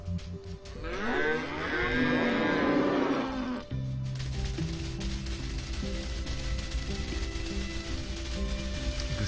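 A herd of cows in a video game, with one long, loud, close moo at the start that fades out, followed by a steady game background.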